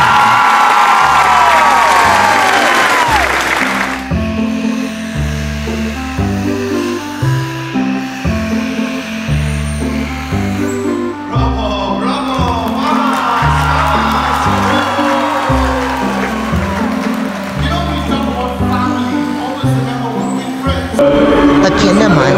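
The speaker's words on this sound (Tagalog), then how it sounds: "Palakpak na may halong sigawan!" Audience at the Dubai Dolphinarium show claps and cheers with shouts, a dense, loud crowd roar that runs throughout, layered over steady loud music with a pounding beat.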